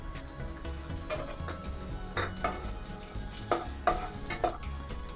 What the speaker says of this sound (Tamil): ஆயில் கொஞ்சம் சூடான பிறகு நம்ம எடுத்து வச்சுருக்க கடுகு உளுத்தம் பருப்பு, வெந்தயம் ரெண்டுத்தையுமே வந்து சேர்த்துருங்க